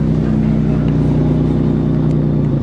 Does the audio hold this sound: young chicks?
no